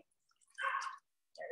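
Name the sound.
pouring a cocktail from a shaker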